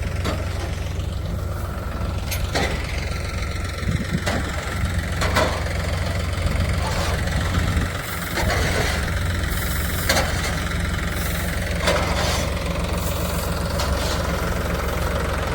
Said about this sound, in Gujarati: ટ્રેક્ટર હાંકી રહ્યા છે